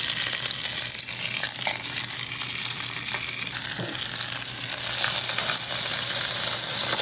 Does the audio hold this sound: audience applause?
no